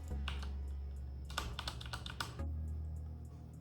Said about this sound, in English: So let's see how this mechanical keyboard sounds.